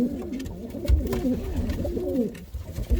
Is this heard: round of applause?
no